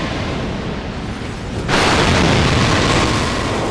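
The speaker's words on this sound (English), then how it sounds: "My sword apparently ignited the wall right before it made contact" A fire sword ignites a wall in a video game, a sudden loud whooshing burst that jumps up partway through and holds as a dense, roaring rush.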